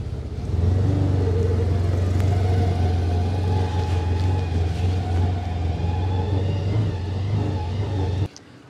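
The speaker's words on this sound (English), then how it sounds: "that was a chilly drive down the driveway without a windshield" A CF Moto U Force 1000 UTV without a windshield rolls down a rural Colorado homestead driveway, its engine a steady low drone and rumble, close and continuous for about eight seconds before cutting off.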